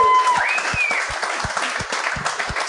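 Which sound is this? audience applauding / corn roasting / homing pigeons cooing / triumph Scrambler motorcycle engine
audience applauding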